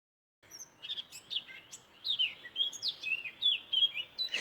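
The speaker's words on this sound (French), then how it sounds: "Les oiseaux chantent quand on les écoute." Several small birds chirp and sing in a rapid, continuous chorus of bright tweets, close and clear over a quiet background.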